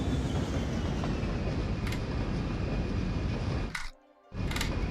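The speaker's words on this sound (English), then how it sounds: "here comes another train. We'll see if that one's going to the passenger station. Yeah, it looks like a passenger train." A passenger train in the city-building game Cities Skylines rumbles past as a steady, loud rolling noise, cutting off briefly near the end before resuming.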